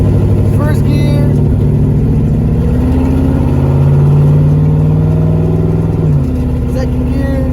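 A car fitted with an HGM Electronics CompuShift transmission controller drives in manual mode, its engine droning steadily and close, the pitch holding then dropping sharply near the end as it shifts gear.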